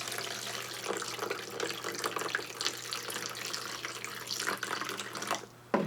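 Tap water pours steadily into a countertop ice maker's reservoir, a continuous close splashing rush with no talk, cutting off abruptly near the end.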